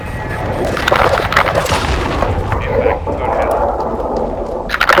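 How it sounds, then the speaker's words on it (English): A heavy cruise missile strike in Call of Duty: Modern Warfare II brings loud booms and bursts of gunfire layered over a dense battlefield din, with voices talking throughout. "Heavy cruise missile deployed"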